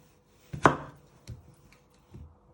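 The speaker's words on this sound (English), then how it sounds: "So I'll show you again how you do the potato. You first chop it in half." A knife chops through a potato on a cutting board for leek and potato soup: one sharp, close thunk, then a few softer knocks and taps.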